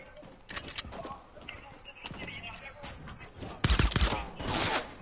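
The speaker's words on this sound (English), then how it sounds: "they're shooting right at us" Gunfire in Fortnite: scattered sharp shots early on, then a dense, loud volley of rapid cracks near the end, amid game sounds with a voice talking.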